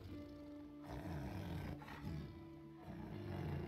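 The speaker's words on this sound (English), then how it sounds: "Tiger is pissed off, so what will you do about it?" A tiger in the video game Assassin's Creed Chronicles: India lets out deep, rumbling roars and growls in several bursts, fairly quiet and alone without talk.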